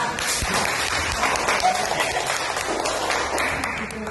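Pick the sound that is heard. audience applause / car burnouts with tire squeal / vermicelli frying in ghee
audience applause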